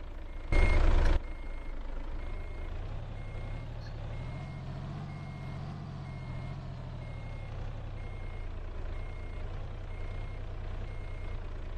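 A truck reverses in a truck-driving video game, its engine rumbling steadily while a reversing beeper repeats in an even rhythm throughout, with a loud air-brake hiss near the start.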